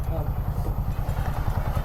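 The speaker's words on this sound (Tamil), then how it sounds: "வண்டி மட்டும் ஆஃப் பண்ணிக்கிறேன்." A motorcycle engine runs at a steady idle with a low, pulsing throb just before being switched off, heard close up under people talking.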